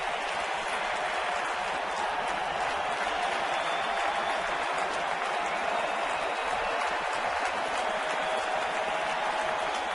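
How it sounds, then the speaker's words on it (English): A packed standing-room-only stadium crowd at an October 2010 ALDS Game 1 baseball game roars steadily, dense and sustained applause and cheering with no breaks throughout. "This standing room only crowd is absolutely roaring."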